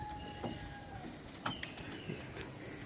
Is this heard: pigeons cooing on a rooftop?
yes